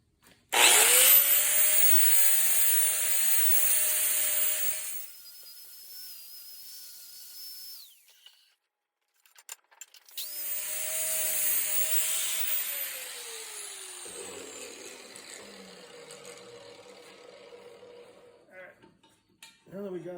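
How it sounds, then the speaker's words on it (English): An angle grinder fitted with a flap disc smooths the cut edges of a steel gate, a loud sustained whine and grinding rasp in two long passes with a quiet gap between them, close by, with no voices. "So just a grinder and flap disc, take those edges off, make it nice and clean."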